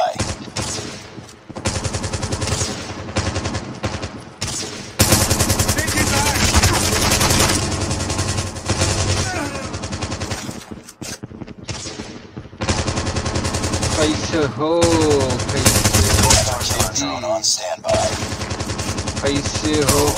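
Call of Duty team deathmatch gunfire, long rapid machine gun bursts with short pauses, loud and near, layered with other shots and game effects.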